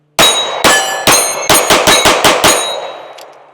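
A Smith & Wesson compact metal-frame 3.6-inch pistol fires eight loud, sharp shots close up, a few spaced then a quicker string, each with a ringing metallic tail, and the echo fades afterward.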